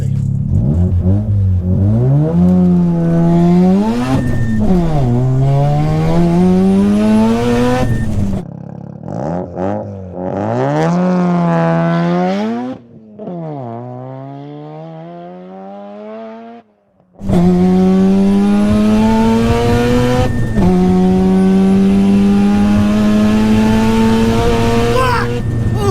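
A supercar accelerates hard through a quarter-mile run, its engine note rising through several gear changes before cutting out briefly and then roaring back at high revs, loud and close throughout.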